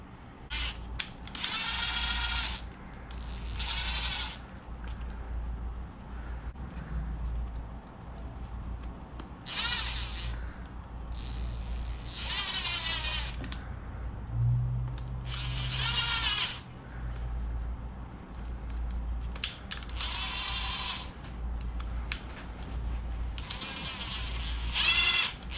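A power driver sets screws into a part on a LOSI Promoto MX RC motorcycle. It gives repeated short, high whirring bursts with pauses between them, over a steady low background hum.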